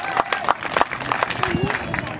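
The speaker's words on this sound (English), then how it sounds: "Let's give Scott a big round of applause." A fair crowd at a reptile show claps and cheers for a performer, scattered close handclaps mixed with excited voices and babble, with talking heard over it.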